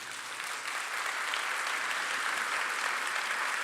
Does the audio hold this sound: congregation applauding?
yes